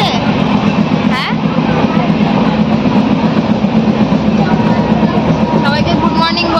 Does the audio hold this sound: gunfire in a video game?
no